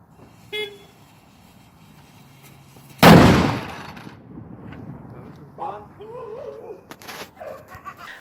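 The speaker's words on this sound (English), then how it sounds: "I am going to insert a clip of my dad lighting off the cannon." Small cannon fired by hand for the Fourth of July goes off with a single loud, sharp boom midway, followed by a short rumbling tail and people talking faintly afterward.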